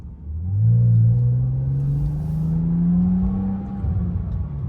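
A BMW E90 engine revs steadily upward toward 7,000 RPM with a deep rumbling exhaust and faint crackling burbles, heard from inside the car.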